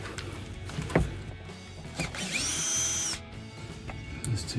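A power drill backs screws out of the rear diffuser on a 2015-2023 Dodge Charger SRT, with short bursts and one sustained whine of the motor, close up and loud, with no talk.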